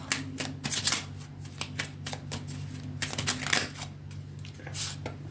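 Oracle cards being shuffled by hand: continuous close papery riffling and flicking with rapid irregular card snaps, moderately quiet, over a low steady background hum.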